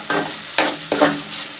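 Tomatoes fry in hot oil in a pan, a soft sizzle broken by three sharp scraping bursts of stirring, close up with no talking.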